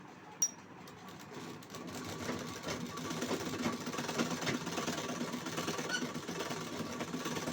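A sewing machine stitching the front side of a blouse runs in a steady, close mechanical whir after a brief click, holding a continuous rapid rattle for several seconds with no voices.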